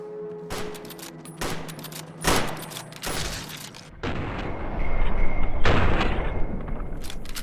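Bursts of gunfire in Fallout New Vegas, with rifle shots fired at geckos along a desert path: repeated loud cracks and a thick volley in the second half, no talk.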